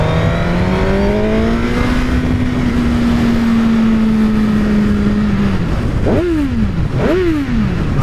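A Suzuki GSX-R1000R motorcycle engine drones at a rising, steady pitch while riding, then drops and snaps up twice in quick rev bursts as gears change, loud and close, with wind rush and no talking.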